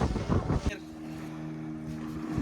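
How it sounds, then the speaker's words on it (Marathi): A boat rocks at sea in the middle of the ocean with its fuel run out, a sustained low rumble and wind buffeting the microphone, preceded by a brief burst of louder noise and voices at the start. "समुद्राच्या मधोमध्ये आणि बोट अशी हलतीये"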